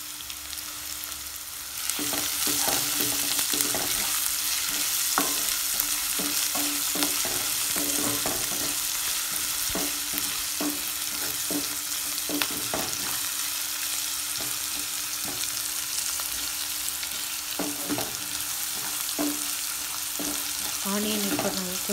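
Onions sizzle steadily in a hot pan with salt for a Tamil-style tomato rice, with a scraping spatula stirring through them at an irregular pace, close and continuous.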